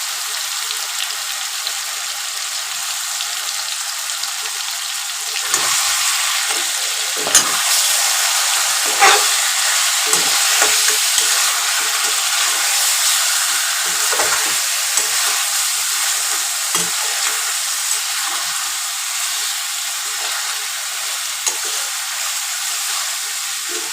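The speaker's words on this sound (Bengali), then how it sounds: "এবার এটাও কষাতে শুরু করব" Onion paste and chicken stir-fried in oil in a pan for an Aminia-style chicken curry, giving a steady close sizzle with scraping stirs throughout and no talking.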